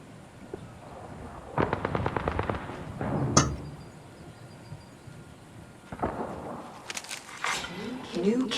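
Gunfire and explosive bursts from a squad-based battle royale video game, with a rapid volley of shots followed by a sharp blast and later scattered firing, heard under a game announcer voice and player talk.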